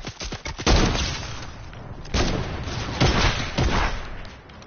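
Sharp video game gunfire rings out as a quick cluster of cracks, then several heavier, spaced booming shots with short echoing tails, close and loud.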